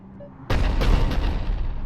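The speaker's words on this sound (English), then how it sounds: "Looks like Cerberus got that cannon operational, Commander." Heavy cannon fire in Mass Effect 3 crashes in at once after a quiet moment, a loud booming blast followed by rumbling, rolling reverberation that holds steady to the end.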